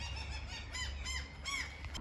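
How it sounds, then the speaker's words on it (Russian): A gull gives several harsh, rising squawking calls in quick succession outdoors near a bridge and hydroelectric station, heard clearly over a steady low rumble of wind or engine noise. "Какая чайка. Ты что, из гнезда выпала или что?"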